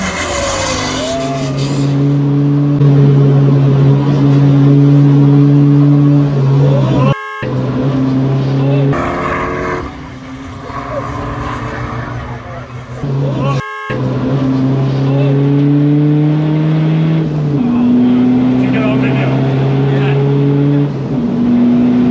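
Race cars lap a track at a track day, including a diesel SEAT Ibiza and a Saab-based special, with loud sustained engine drones rising and falling through gear changes, and a voice talking over the noise throughout.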